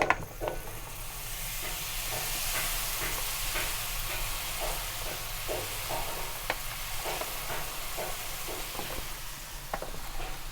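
Batter for Lahori khakhar pura fries in hot oil, giving a steady, close sizzling hiss scattered with small crackling pops that continues throughout, with no talking.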